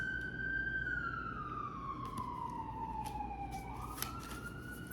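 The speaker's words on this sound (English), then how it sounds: "I'm gonna let those sirens pass." An emergency vehicle's siren wails in long, sliding tones as it passes at a distance, steady and moderately loud over faint background rumble.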